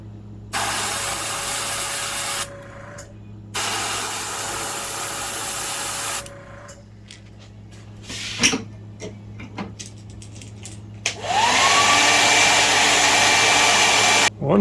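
A heat tool blows hot air to set paint on a vintage Wiggle Wart fishing lure, running as a steady whooshing roar in three separate bursts with short pauses and small clatters between them.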